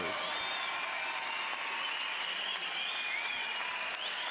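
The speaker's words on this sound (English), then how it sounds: "let's have a big round of applause for these 2 warriors" A bare-knuckle fight crowd claps and cheers for two fighters after a five-round bout, continuous applause filling the arena with a faint tone running through it.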